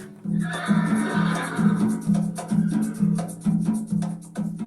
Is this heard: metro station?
no